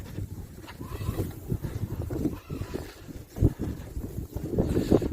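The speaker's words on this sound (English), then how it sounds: "As you can see, the wind is blowing very hard." Strong wind gusting through a snowstorm in Holland, a continuous low rushing roar with buffeting swells and microphone wind noise.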